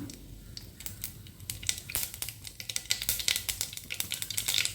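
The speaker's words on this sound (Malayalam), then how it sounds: "ചൂടായി വരുമ്പോൾ ഇതിൽ കടുകിട്ട് പൊട്ടിക്കുക." Mustard seeds spluttering in two spoons of hot coconut oil in a pan on the stove, for a Kerala sadhya parippu curry, give dense, rapid crackles and pops up close that run steadily over a low background hiss.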